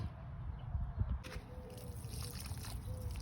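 Water trickles onto zinnias in a garden bed, a faint, soft pour that starts about a third of the way in and runs steadily over a low background rumble.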